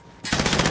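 Automatic gunfire in Call of Duty Warzone: a sudden loud burst of rapid machine-gun shots starting abruptly and continuing as a dense rattling stream, close and dominant.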